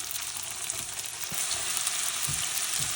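Green-coloured vettu palakaram dough fries in hot oil with a steady, loud sizzling hiss. A few soft low bumps sound beneath it, and no one speaks.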